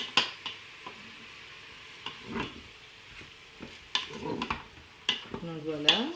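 Beef pieces browning in a Cookeo multicooker for carbonnade flamande, with soft intermittent sizzling and the scrape of stirring, and a few brief bumps and clatters.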